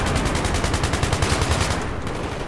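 Rapid automatic gunfire in the video game Battlefield 3, a loud, dense run of fast rhythmic shots that thins out near the end, with no voices over it.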